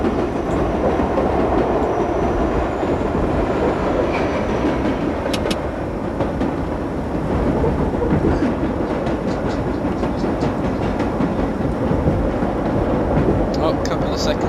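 A New York Line 7 subway train in World of Subways Vol 4 slows from about 35 mph, giving a continuous loud rumble with rhythmic clatter and faint high squeals throughout.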